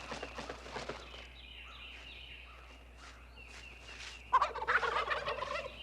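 A wild turkey tom gobbles outdoors, a rattling burst standing out near the end after quieter moments of faint rustling and distant bird calls.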